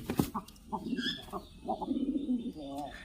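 Pet pigeons coo and make soft throaty calls close by, in short bursts with brief pauses, alongside a few chirps and some background voices.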